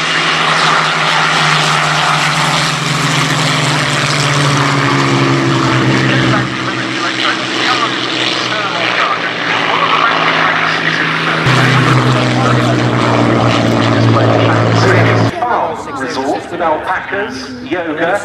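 A Pipistrel electric aircraft flies at the Duxford summer airshow, giving a loud, steady propeller-driven drone that shifts pitch as it passes, with a voice talking over it.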